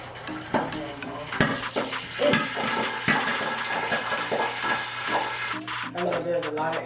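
Oil sizzles and crackles in a pan as plantain and chicken fry, a steady close hiss with bursts of popping, while a person talks over it.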